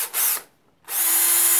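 A Parkside 12V cordless drill/driver set to maximum torque runs with a loud high whine, stops briefly for about half a second, then spins up again and keeps running steadily.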